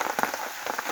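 Steady rain patters on a surface, with scattered nearby drops tapping over a continuous hiss.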